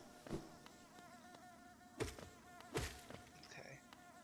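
Bees buzz in the video game Hollow Knight, a steady insect drone under a quiet ambient backdrop, with a few sharp thumps from game actions.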